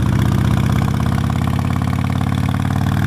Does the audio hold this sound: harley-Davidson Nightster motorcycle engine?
yes